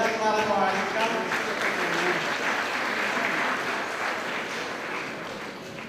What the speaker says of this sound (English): Let us clap for her.